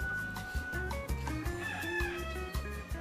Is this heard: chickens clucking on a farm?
yes